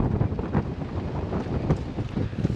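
Wind blowing outdoors on a warm, shaded day, a continuous rough buffeting rumble that gusts and swells against the microphone, fairly loud and alone.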